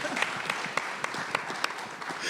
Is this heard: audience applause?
yes